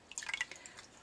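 A painting sponge dipped into water for acrylic cloud painting gives a brief, soft cluster of drips and small splashes, quiet and close, lasting about a second.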